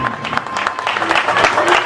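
A crowd of spectators applauds at a rally service park during the 2011 Rally of Germany as a driver returns, steady dense clapping filling the short moment with a faint voice in the mix.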